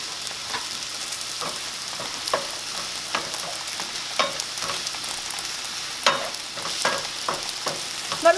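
Bologna frying in a hot pan, with a continuous crackling sizzle and occasional louder pops and spatters throughout.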